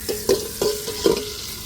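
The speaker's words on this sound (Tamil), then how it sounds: "தக்காளி நல்லா வதங்கட்டுங்க" Chopped tomatoes sauté in a hot pan for a coconut milk rice, with three soft scraping stirs at steady intervals over a low, steady sizzle.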